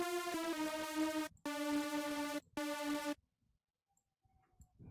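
Serum saw wave synth with unison set to 10 plays three loud, thick sustained chords with bright harmonic stacks, separated by short gaps, then stops, leaving near silence.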